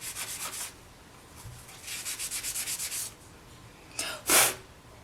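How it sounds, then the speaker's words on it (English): A polymer clay pendant sanded by hand in short rhythmic strokes, with bursts of quick scratchy rubbing separated by pauses, followed near the end by a single louder hissing scrape. "Just want to give it a little bit of a sand to see how bright you're going to want it ultimately"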